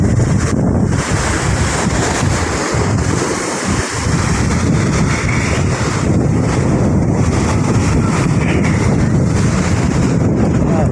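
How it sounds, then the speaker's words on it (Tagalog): Strong wind buffets the microphone along the Manila Bay seawall as rough ocean waves wash and surge, a loud, constant roar with rolling swells, kicked up by successive storms. "dinig nyo naman po yung ano lang hangin saka ng alon"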